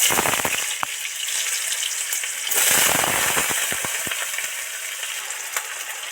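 Potato pieces hitting hot oil with dry red chilli and a bay leaf, a loud crackling sizzle that swells midway with a few sharp pops, close up and without voices.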